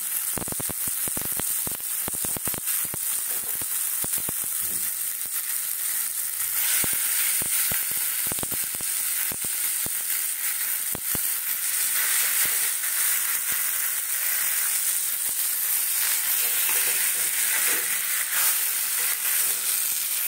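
Mashed boiled amla frying in ghee, a loud continuous close sizzle with frequent sharp scraping and stirring taps of the spatula against the pan.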